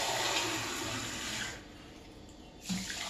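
Basmati rice being washed in water, heard as close swishing and sloshing in a bowl, then a brief quieter pause before the splashing picks up again.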